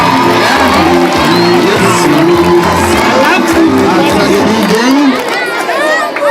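A crowd at a school classroom commissioning event cheers and ululates loudly and continuously, with whoops and shouts rising over dense chatter throughout.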